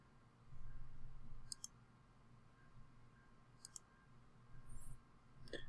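A computer mouse clicks in a quiet room, a few sharp double clicks spaced several seconds apart over a soft background hum.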